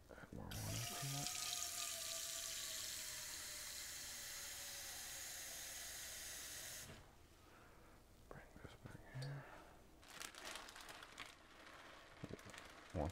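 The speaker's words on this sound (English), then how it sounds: "Add more water to it." Tap water runs steadily into a pot of drained cauliflower in a home kitchen while a cauliflower pizza crust is prepared, a broad, loud rushing splash lasting about seven seconds before stopping, followed by quieter handling clatter.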